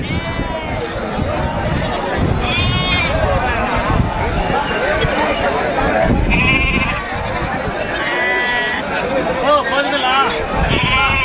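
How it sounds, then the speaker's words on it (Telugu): Young male goats bleat repeatedly and loudly at a weekly goat market, several calls overlapping against a steady background of crowd chatter and murmuring people. "ఇవన్నీ మేకపోతే పిల్లలే"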